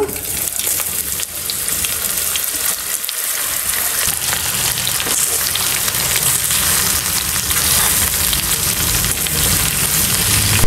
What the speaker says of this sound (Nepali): अब चाहिँ यसमा सोयाबिन हाल्दैछु